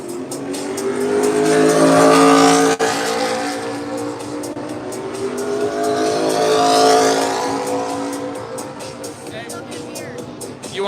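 Race cars roar around Daytona during a 300-mile stock car race, engines surging and fading as the pack passes with a long swelling drone and tire noise, loud and continuous beneath crowd and commentary voices.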